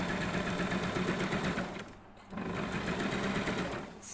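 Sewing machine stitching a seam on fabric, a steady rapid mechanical whir close up, briefly slowing and pausing midway before running on again.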